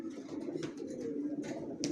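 Racer pigeons coo softly and steadily in a loft of young birds, a low throaty murmur continuing throughout with faint rustles on top.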